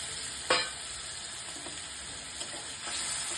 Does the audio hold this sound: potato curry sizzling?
yes